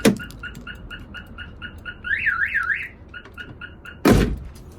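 A 1990 Honda Civic EF car alarm triggered by opening the door chirps in rapid repeated beeps, then warbles in a rising-falling siren, returns to beeping, and ends with a loud door thunk.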